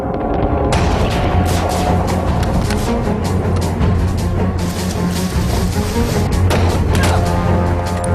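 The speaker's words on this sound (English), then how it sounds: "the Germans were up on the top side, shooting at us coming in" Dense, continuous gunfire and booming blasts during the D-Day landing beneath Point du Hoc in Normandy, loud and unrelenting with sharp cracks layered over a heavy rumble.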